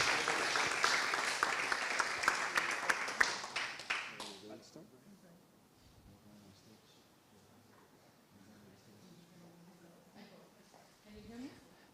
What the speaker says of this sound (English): So please, a big round of applause to